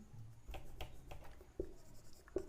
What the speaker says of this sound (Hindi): फिर लिखते हैं